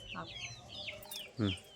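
Hens clucking in short bursts, with a louder low cluck near the end, heard at a moderate distance outdoors.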